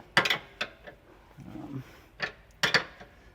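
A wrench working a bolt on a vehicle's camber adjustment, with a few sharp metallic clicks and clanks in two short clusters and a soft scraping in between, close by and fairly quiet.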